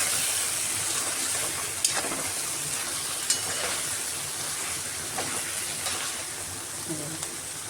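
Capsicum cooking in oil on a low flame without water, a steady close hiss and sizzle of frying with occasional faint ticks and clicks.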